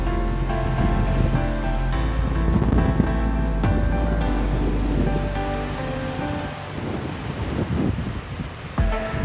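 Atlantic Ocean surf washes onto Iceland's black sand beach at Þórlákshöfn, a loud continuous roar of waves mixed with heavy wind buffeting the microphone, with no voices.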